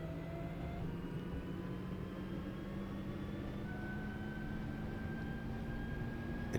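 A train motor hums in Train Sim World 5 on a Manchester Airport commuter route. The whine rises slowly in pitch over a constant rumbling bed of noise and stays fairly faint, with no voices.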